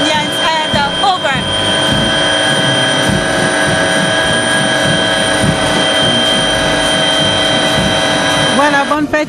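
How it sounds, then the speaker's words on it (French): Military aircraft pass low over a National Unity Day parade boulevard in Cameroon, producing a loud, sustained engine roar with a steady whine that holds for the whole stretch, with brief crowd noise at the start. "on voit ces aéronefs qui commencent à survoler le ciel du boulevard ici"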